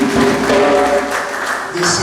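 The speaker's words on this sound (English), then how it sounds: "Multi-purpose club, give them a round of applause." Brief burst of audience applause at a Guyanese symposium, continuous clapping mixed with a voice talking over it.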